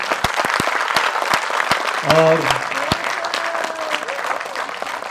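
A theatre crowd claps vigorously for the cast of a Hindi stage play, a sustained wash of applause with a brief voice speaking over it partway through.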